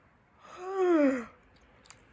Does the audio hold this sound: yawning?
yes